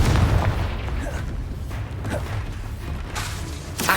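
Confringo blasting spell explosions in the Hogwarts Legacy video game: a loud booming burst at the start, continuous rumbling blasts and crackling debris, and a fresh sharp blast near the end.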